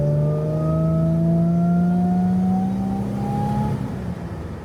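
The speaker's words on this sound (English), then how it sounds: "This car sounds sick." A modified Holden Calais engine accelerating hard, a loud sustained rising drone as the revs climb steadily for several seconds before easing off, heard from inside the car with some wind noise.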